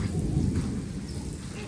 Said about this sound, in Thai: พายุเข้าแล้วจ้าทางบ้านเอาให้ฟังเด้อพี่น้อง